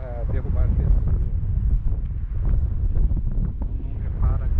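Wind buffeting a microphone across the open, low-vegetation ground of Adam Tas Dog Park, a constant heavy low roar with gusty swells, and a person's voice partly audible beneath it.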